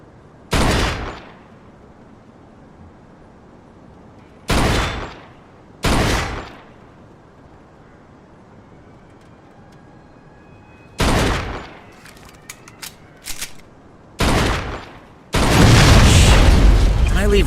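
Gunshots crack out one after another in a Mafia II game, aimed at a car's gas tank, several sharp loud reports spaced apart with quiet gaps between them, and the last one gives way to a sustained roaring explosion.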